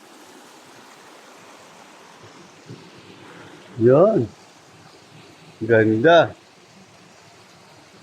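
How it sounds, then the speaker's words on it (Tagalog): Water rushing along a stream close to a waterfall: a steady, fairly faint wash runs throughout, with two short bursts of speech over it. "Buhay na buhay ang mga tubig na umaagos ngayon."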